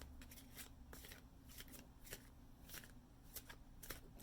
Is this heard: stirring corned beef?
no